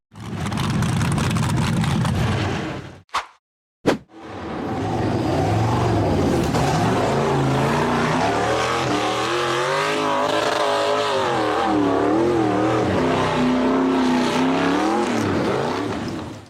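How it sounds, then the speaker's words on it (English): An off-road buggy engine roars as it climbs a sandy slope after launching over a dirt ridge, loud and close, cut by two sharp brief breaks before a long sustained revving climb with shifting pitch. "The purple buggy launched over the dirt ridge and then accelerated up a sandy slope."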